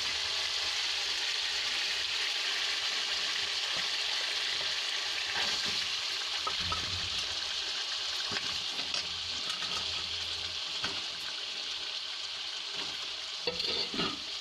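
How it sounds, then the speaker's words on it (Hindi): Spice masala for radish (mooli) kofta frying in a pan: a loud, continuous hiss and sizzle with occasional stirring scrapes, and no talking. "देखिए हमारे मसाले को भून रहे हैं"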